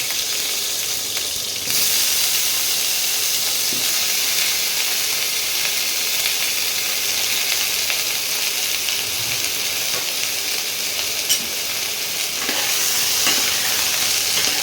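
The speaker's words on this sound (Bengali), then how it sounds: "এই তেলের মধ্যেই প্রথমে বেগুন ভেজে নেব।" Small cut pieces of eggplant fry in hot oil, a continuous loud hissing sizzle that stays even throughout, heard close up with faint occasional clinks and no talking.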